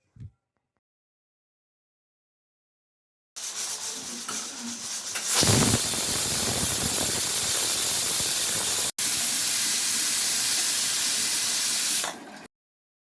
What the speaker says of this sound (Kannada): ಈಗ ಕುಕ್ಕರ್ ಮುಚ್ಚಳ ಮುಚ್ಚಿ 2 ಕೂಗನ್ನು ಕೂಗಿಸಿಕೊಳ್ಳಿ